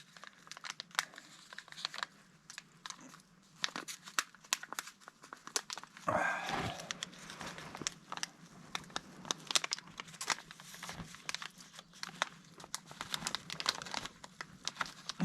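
Cherry tomato seedlings are worked loose from a thin plastic nursery container, giving close, continuous crinkling and crackling of plastic with sharper crunches partway through.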